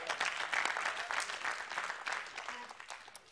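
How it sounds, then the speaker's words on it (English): A church audience claps together in a sustained burst of dense, steady applause at moderate distance, with no voices standing out over it. "Come on, somebody give me a clap here."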